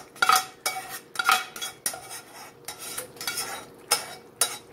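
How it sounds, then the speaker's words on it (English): Rice is stirred into a pan with a utensil, giving a close, steady series of scraping and clinking strokes against the pan, about ten in under five seconds. "Okay, so let's stir that in."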